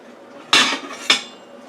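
A knife or fork cuts into a dish of baked shrimp macaroni and cheese, giving two sharp, close scraping clinks against the baking dish about half a second apart, with quiet room tone between them.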